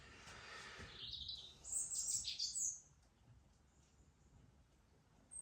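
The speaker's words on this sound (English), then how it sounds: "Oh, lovely sound from that bird." A bird sings a bright, high chirping phrase for about a second, then quieter distant tweets continue over a faint background hum.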